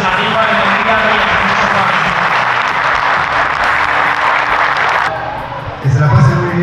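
Sustained applause from a large crowd at an outdoor children's day festival for the private security officers, dense continuous clapping mixed with crowd noise that thins out near the end as a voice begins.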